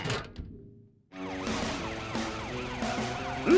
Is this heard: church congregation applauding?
no